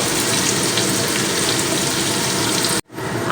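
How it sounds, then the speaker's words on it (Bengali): Chopped carrots fry in hot oil with a steady, loud broadband sizzle that fills the space, briefly cutting out near the end before resuming. "এবার আমি কেটে রাখা গাজরগুলো তেলের মধ্যে দিয়ে ভেজে নেব"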